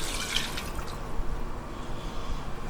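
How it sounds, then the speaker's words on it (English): Coconut milk poured into a simmering lamb massaman curry, a soft close trickle and drip of liquid running for a few seconds with faint splashes. "I'm just going to pour the rest of the coconut milk in."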